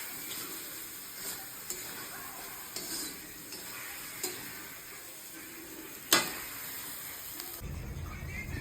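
Spice paste sizzles in hot oil for mutton kosa, a quiet continuous fry with soft crackles, occasional stirring scrapes and one sharp clink of a utensil against the pan.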